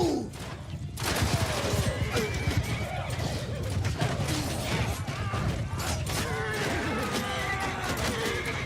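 Horses of mounted archers neighing and whinnying amid a medieval video-game battle, with hoof clatter, clanking gear and a dense crowd din running steadily throughout, plus a shouted voice near the start.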